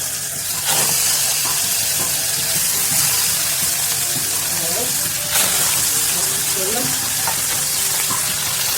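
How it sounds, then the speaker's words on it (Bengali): Pieces of shankar fish frying in a pan, a loud, continuous sizzle and spatter with a few scraping stirs as they are turned, no talk. "এগুলোকে ভালো করে উল্টে পাল্টে ভেজে নেবো"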